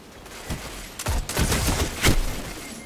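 Origin Story auto rifle firing in Destiny 2, a few sharp crackling gunshot bursts close up over a steady game background hum, with no talking.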